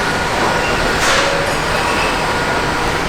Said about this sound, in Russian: если вид в центре Мадрида у вас, это шум такой, что трындец.